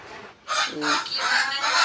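Several chickens clucking and squawking close by, a busy continuous flurry of bird calls after a brief quiet start.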